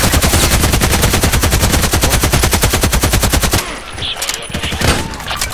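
An AK-12 assault rifle in the shooter game Contract Wars fires a long, rapid automatic burst of loud, evenly spaced shots, then stops abruptly, leaving a few scattered softer shots and faint background noise.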